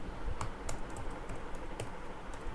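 Typing on a computer keyboard while entering values into an Excel spreadsheet, a few distinct key clicks scattered irregularly over steady background noise, with no voice.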